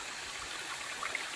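Faint, steady rush of flowing stream water, a soft continuous wash with a few small trickling splashes.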